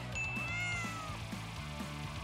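A cartoon cat meows in several drawn-out, rising and falling cries while chasing a red laser dot, with steady background music underneath.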